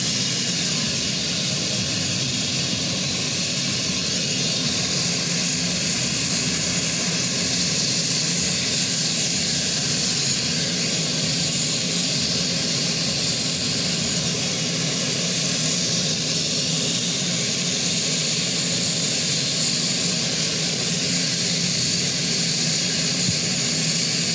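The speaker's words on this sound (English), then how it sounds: "as the helicopter then starts to make its descent" Helicopter descending toward the ground ahead of an RAF versus Navy inter-services men's football championship match, heard as a loud, steady, broadband engine and rotor roar that holds continuously throughout without any talk.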